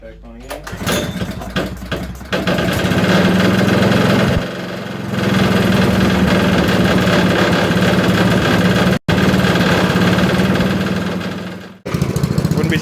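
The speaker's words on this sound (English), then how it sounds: "well, it runs. I think I need to adjust the idle." A small go-kart engine idles loudly and steadily, dipping briefly as it is shut off and restarted, then settling back into a constant mid-pitched drone near the listener.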